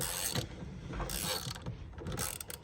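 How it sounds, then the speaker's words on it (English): Ratchet working on the center bolt of a 10th-generation car's steering wheel, giving quick bursts of metallic clicking repeated a few times, up close and clear. "this ratchet's just a little too short to have all the leverage I need"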